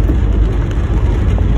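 Rain drumming on a car moving through Claro M Recto, a steady broadband wash with low road and engine rumble underneath, loud and continuous with no talking.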